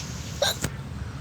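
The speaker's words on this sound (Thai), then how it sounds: "สะอึกอะ" A single sharp hiccup, brief and close, pops out over a low steady background hum, with no talking around it.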